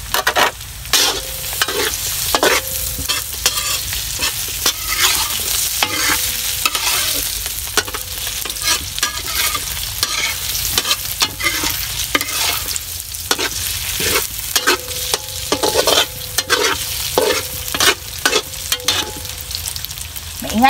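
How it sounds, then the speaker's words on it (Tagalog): Hotdogs sizzle in a noisy metal pan while being stirred, with a steady frying hiss broken by repeated clanks and scrapes of the utensil against the pan, close and continuous. "Ingay yung kawali natin."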